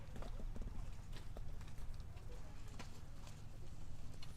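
Young mustang geldings mill about in a pen, with hooves clopping irregularly on the ground amid steady outdoor background noise and faint bird calls.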